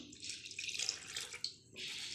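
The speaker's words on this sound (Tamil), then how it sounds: "இது வேணுங்கிற அளவுக்கு தண்ணி நம்ம ஆட் பண்ணிக்கலாம்." Water pours steadily from a tap into samba rava (broken wheat) dosa batter, a close, continuous trickling splash with a brief pause midway before the flow resumes.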